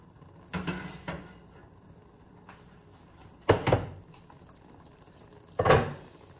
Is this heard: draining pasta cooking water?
yes